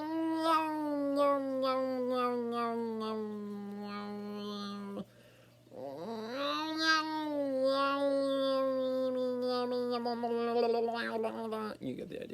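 A person imitates a cat about to throw up, producing long, strained, wavering yowls in two extended bursts separated by a brief pause, close and fairly loud over a steady low hum.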